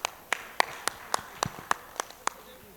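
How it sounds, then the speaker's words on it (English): At a staff meeting, about nine separate, evenly spaced claps ring out one after another in a slow, regular beat over a quiet room. "Can we give him a round of applause for that?"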